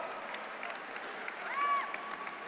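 An audience claps at a robotics awards ceremony. The applause is soft and steady, with a faint whistle-like tone partway through.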